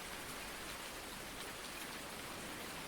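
Steady rain in Farming Simulator 19 hisses evenly throughout, a dense, constant wash of falling drops with no breaks or voices.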